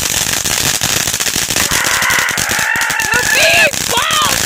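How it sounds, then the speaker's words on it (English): Backyard July 4th fireworks and firecrackers go off in a dense run of sharp crackling bangs, loud and close, while children and adults shout and talk excitedly over them throughout. "Fireworks over here. These are so much cooler."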